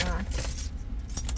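Car keys jangle close by in short metallic rattles, with a faint car sound and a voice present in the background.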